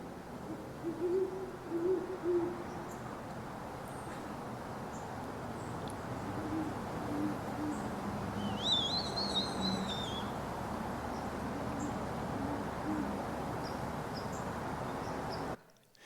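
A great horned owl hoots near a screech-owl nest box, giving deep low hoots in short spaced series, moderately close over a steady outdoor background hiss, with a brief higher bird call partway through.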